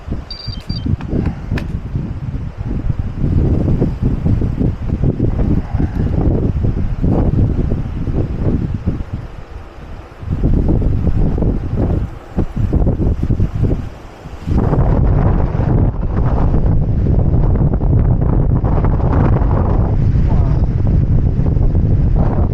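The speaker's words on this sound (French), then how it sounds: "le vent il circule dans ces gorges là" Strong wind gusts through the narrow rock walls of the Gorges de Galamus, roaring and buffeting the microphone almost continuously, with a brief lull near the middle and faint voices underneath.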